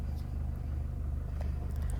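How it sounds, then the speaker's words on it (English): A Toyota Innova Crysta 2.4 engine idles just after starting, a low steady rumble heard from inside the car, fairly quiet and without speech. "And now let's start up the car."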